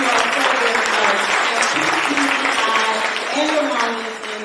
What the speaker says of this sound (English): If we could give these ladies a round of applause.